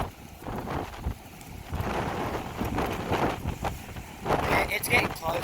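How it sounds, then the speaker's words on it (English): A rushing gust of wind from Storm Ophelia roars across the microphone, swelling and buffeting throughout, with a surge near the end over broad outdoor noise. "There's another gust coming right now"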